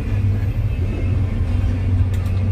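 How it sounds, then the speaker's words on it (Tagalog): Heavy, slow-moving road traffic near San Pablo City and Alaminos, a continuous low engine rumble from nearby vehicles with no break and no voices. "Grabe po ang traffic."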